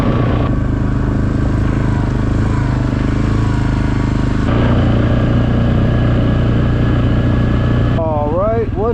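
An ATV engine drones loud and steady on an off-road ORV trail near a Michigan campground, a constant close rumble with a shift in pitch partway through and no speech.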